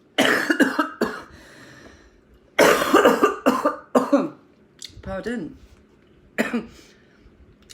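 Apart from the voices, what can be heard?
cough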